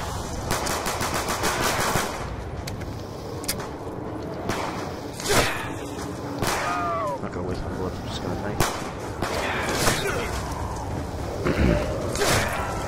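Rapid gunfire from a double pistol in the video game Zombies Nuke Town, a fast string of sharp cracks with scattered game effects, under a person talking.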